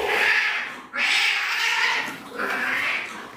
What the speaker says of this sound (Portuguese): Os gatinhos brigando aqui.